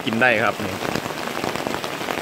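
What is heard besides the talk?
rain falling at campsite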